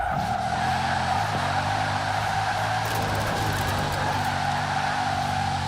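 A Bugatti Chiron with 1,479 horsepower in the racing game Forza Horizon 4 gives a sustained, loud engine drone that holds steady throughout, with no speech.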